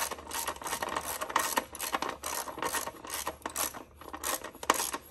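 A ratchet with a 10 millimeter socket tightens bolts on a 2016 Honda CR-V engine during a spark plug change, a fast series of quiet, close clicking and rasping strokes in uneven bursts.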